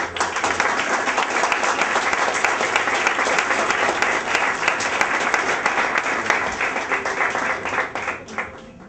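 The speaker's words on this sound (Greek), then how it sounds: "Ένα χειροκρότημα." A theatre audience gives a loud, close round of applause at a live stage show, dense rapid clapping with a few sharp individual claps standing out, sustained for about eight seconds before tapering off.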